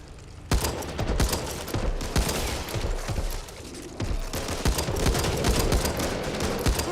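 Rapid bursts of gunfire in the video game Back 4 Blood crackle continuously, loud and close, with sharp repeated shots and a brief lull midway.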